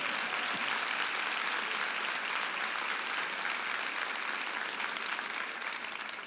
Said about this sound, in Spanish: ¿Cuánto le da un aplauso a Dios por esta palabra?